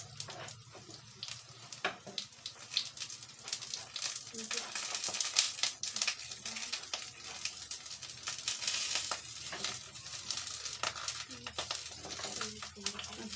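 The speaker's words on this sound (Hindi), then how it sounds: "बैंगन का पीस जो है ना इसका हम डीप फ्राई करेंगे।" Eggplant pieces deep frying in hot oil, a steady dense crackling sizzle that runs throughout at moderate level, with occasional sharper pops and spatters.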